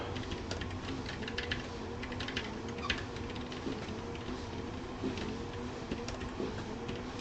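Quick, uneven tapping of a computer keyboard, with a faint hum underneath and an occasional louder key strike, close up and with no talking.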